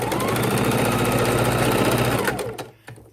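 A sewing machine lock stitches a potholder, running in a loud, steady mechanical whir for over two seconds before cutting off with a few clunks.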